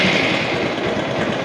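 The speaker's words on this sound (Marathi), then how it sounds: "सुरू करतोय आता गाडी." Honda Shine motorcycle engine running steadily right after starting, a close, continuous idle with a busy mechanical chatter and no voices over it.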